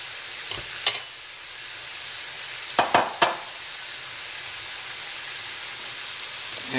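Shrimp and pasta frying in a pan make a steady close sizzle, broken by a few sharp clatters of stirring, with no talk.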